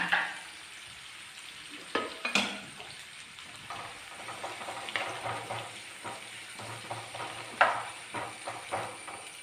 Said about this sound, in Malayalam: ഇനി അതിലേക്ക് നമുക്കൊരു രണ്ട് സവോള സ്ലൈസ് ചെയ്തത് ചേർത്ത് കൊടുക്കാം ഇതും നന്നായിട്ട് ഒന്ന് മൂപ്പിച്ച് വറുത്ത് കോരണം